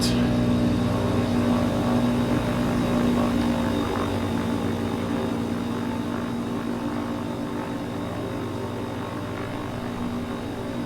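A steady propeller engine drones loudly and continuously, a constant low rumble with a slight waver in pitch, no voices.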